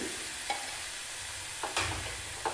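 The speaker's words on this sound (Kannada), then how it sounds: "ಹಸಿ ಕೊಬ್ಬರಿ, ಹಸಿ ಮೆಣಸಿನ್ಕಾಯಿ ಎಲ್ಲ ಎಣ್ಣೆಯಲ್ಲಿ ಫ್ರೈ ಆಗಲಿ" Ground coconut and green chili masala frying and sizzling in hot oil, with a steady close hiss broken by a few scraping stirs, no voices.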